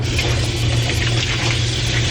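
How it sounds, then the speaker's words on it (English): Water pouring steadily into a chicken tortelloni casserole, a continuous close splashing gush with no talking. "I think it needs at least another cup of water because these shells, the tortelloni, they're already swelling."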